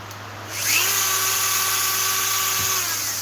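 A rotary tool fitted with a taper burr whines at high, steady pitch as it carves poplar wood, spinning up after a brief quiet start and holding a loud, continuous tone close to the microphone.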